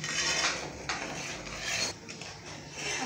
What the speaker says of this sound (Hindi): मुसलसल आपने चम्मच हिलाते रहना है ताकि नीचे ना लग जाए